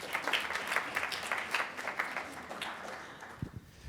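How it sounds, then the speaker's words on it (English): Audience applause for a 3D artist at an NFT.NYC 2022 panel, a brief round of clapping that tapers off toward the end. "Give him a round of applause."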